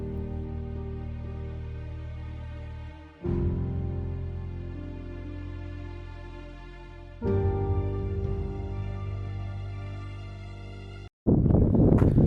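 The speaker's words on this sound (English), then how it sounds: "Don't know if you can even hear this because of the wind" Strong wind buffets the microphone on the descent of Ben Nevis, a loud, steady roar in long sustained gusts that swell and drop abruptly, with no voices.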